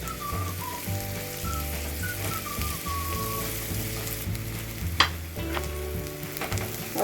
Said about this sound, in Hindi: अब इनको प्याज़ों को और लहसुन को मैं अच्छी तरह फ्राई कर लूँगी।